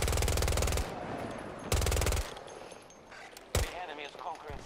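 Gunfire in the video game Battlefield 2042: two loud bursts of rapid automatic fire, then a single sharp shot, with chaotic battle noise and voices between them.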